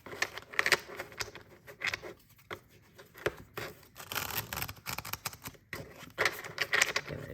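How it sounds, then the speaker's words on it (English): A tarot deck is shuffled and riffled in quick, crisp bursts of flapping and patter, close up, with short pauses between handfuls. "Shuffle and cut the deck."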